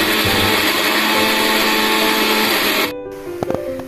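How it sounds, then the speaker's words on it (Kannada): A kitchen mixer grinder whirs loudly and continuously as it grinds fried onion, garlic and ginger with turmeric and coriander, then cuts off abruptly near the end, followed by a few sharp clicks and clinks. "ಬಾಣಲಿಗೆ ಎಣ್ಣೆಯನ್ನು ಹಾಕಿ ಈರುಳ್ಳಿ ಬೆಳ್ಳುಳ್ಳಿ ಶುಂಠಿಯನ್ನು ಹಾಕಿ ಚೆನ್ನಾಗಿ ಫ್ರೈ ಮಾಡಿಕೊಂಡು ಸ್ವಲ್ಪ ಅರಿಶಿನ ಮತ್ತು ಕೊತ್ತಂಬರಿಯನ್ನು ಸೇರಿಸಿ ರುಬ್ಬೋಣ"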